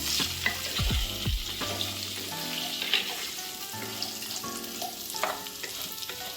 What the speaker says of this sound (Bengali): এখন আমি আলুগুলো ভেজে নিচ্ছি